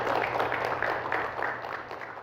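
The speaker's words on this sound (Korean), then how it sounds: "우리 영광의 박수를 좀 힘차게 올려드리겠습니다" A church congregation at a Korean worship service claps together in steady, dense applause at moderate loudness throughout.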